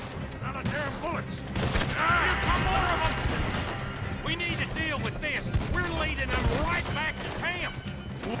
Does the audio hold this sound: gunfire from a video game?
yes